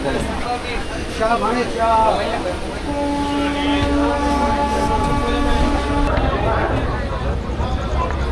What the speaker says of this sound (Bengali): নির্ধারিত সময়ের থেকে 10 মিনিট ডিলেতে ট্রেন বর্ধমান স্টেশন ছাড়লো